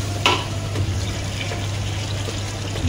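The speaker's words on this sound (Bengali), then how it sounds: "ভিতরে জল ঢেলে দিই" Water poured into a pot of seasoned chicken for mandi, a steady close trickling splash over a low constant hum, with a brief clink near the start and no voices.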